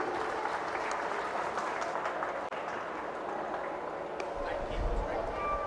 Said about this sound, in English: let's give these 18-year-olds a big round of applause once again